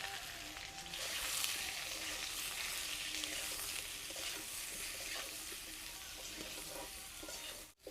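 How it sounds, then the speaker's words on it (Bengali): Young jackfruit pieces fry in oil with salt and turmeric, giving a continuous hissing sizzle that swells early and holds steady. The sound ends abruptly with a brief clatter. "এবারে এই তেলের মধ্যে দিয়ে দিব এঁচড়। এঁচড়টাকেও আমি একটু ভালো করে ভেজে নেব।"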